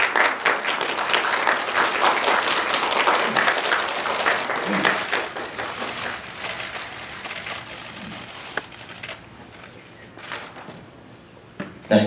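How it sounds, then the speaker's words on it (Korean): An audience claps at a Korean climate-change ambassador appointment ceremony. The dense applause is loud at first and tapers off toward the end. "다시 한번 큰 박수 부탁드리겠습니다"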